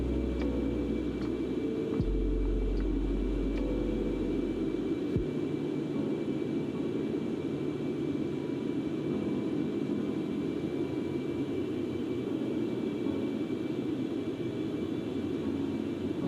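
Concorde engines in the X-Plane 11 flight simulator give off a constant low roaring drone with a faint steady hum, unbroken for about sixteen seconds apart from a couple of small clicks early on.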